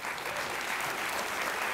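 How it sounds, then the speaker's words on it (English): A conference audience applauds steadily in a hall, a dense wash of clapping that holds even throughout the short burst. "I think we'll applaud again now."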